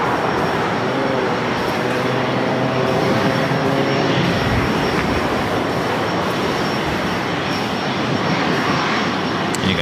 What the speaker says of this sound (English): the 777-200ER heading back to Vienna. Now taking off there on the north side